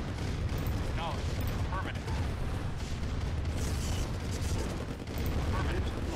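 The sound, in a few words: gunfire attacking defense turrets in Red Alert video game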